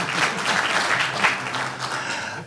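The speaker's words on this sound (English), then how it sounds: "Let's give him a round of applause, please." Audience applause at an evening science-comics book event, a dense steady wash of many hands clapping at close range for about two and a half seconds, easing off slightly at the end, with no talk over it.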